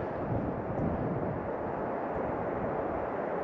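Alpine wind on a mountain trail to Mueller Hut at Aoraki Mount Cook, a steady, loud rushing roar buffeting the microphone, with no voices.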